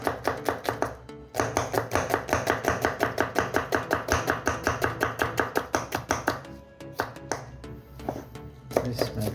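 A knife chops onions quickly on a board in a fast, steady rhythm of crisp, close knocks, broken by a couple of short pauses.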